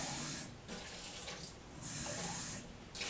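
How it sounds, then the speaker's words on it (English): Water from a tap rinses a graduated cylinder in a sink, hissing in bursts that rise and fall as the flow hits the glass, close and moderately loud. "I'm going to now rinse off the graduated cylinder"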